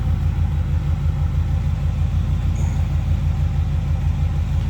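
A 1971 Chevrolet C10 pickup idles after a cold start, its engine putting out a steady, deep rumbling throb with an even low pulse that stays constant and close throughout.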